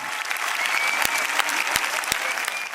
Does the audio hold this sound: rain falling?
no